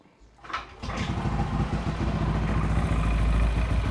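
A Yamaha NMAX or Aerox scooter with an RS8 V4.2 CVT starts up and revs steadily, testing the belt, with a loud, throbbing low rumble that continues close by.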